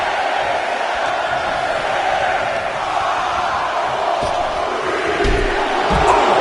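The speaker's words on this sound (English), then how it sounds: "Listen to this crowd count the next one in" A large arena crowd at a WWE wrestling event roars steadily throughout, counting along, a dense wash of voices with rising shouts near the end, loud and close.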